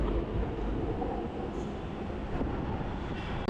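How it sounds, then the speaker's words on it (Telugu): Hyderabad metro train at Nampally station, a steady low rumble of the running train filling the whole stretch at moderate level with no voices. "ఇది మన మెట్రో."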